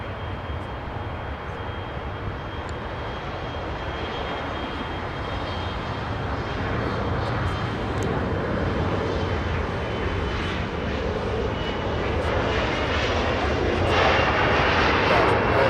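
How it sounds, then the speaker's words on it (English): A SkyWest Embraer E175 regional jet moving at Los Angeles International Airport, a steady broadband engine roar that builds slowly and grows louder toward the end, continuous and fairly close. "All right, little E175 getting a move on in just a bit."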